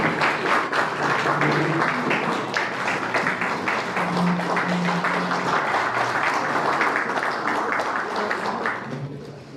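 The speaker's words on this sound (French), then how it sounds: "Merci de l'applaudir et de vous le remercier" An audience at an institutional tourism event in Haiti applauds Minister of Tourism John-Éric Dessos with sustained, dense clapping from many hands. Faint voices sit underneath, and the applause fades slightly near the end.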